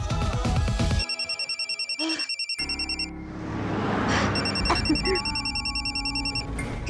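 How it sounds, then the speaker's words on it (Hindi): A phone rings with rapid electronic trilling pulses in two bursts, separated by a short stretch of rustling background noise. "किसका फोन है?"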